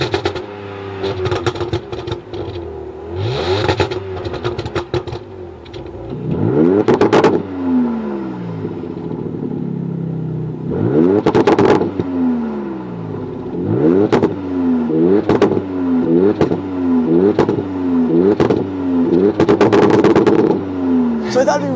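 A twin-turbo Sixpack engine in a 2026 Dodge Charger with an 8-speed automatic revving hard in a series of sharp, repeated bursts that climb and fall, loud and close, with some talk mixed in.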